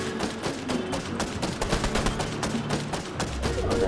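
Gunfire in the Fortnite video game, a dense stream of rapid shots and bursts layered over one another, loud and continuous with game effects underneath.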